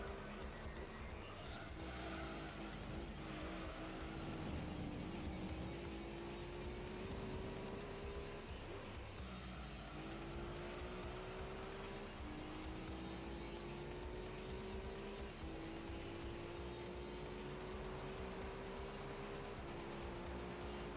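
Race car engine with 470 horsepower in Gran Turismo 3, holding a steady loud drone that climbs in pitch through repeated gear changes, each upshift dropping the tone before it rises again, running continuously with no talk.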